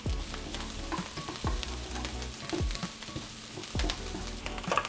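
Garlic frying in a pan for a Cuban masitas de puerco dish, a steady close sizzle with occasional stirring scrapes and clatters, no talking.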